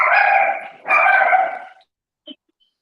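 A dog lets out two loud, drawn-out barks close by, followed by silence and a faint brief yip.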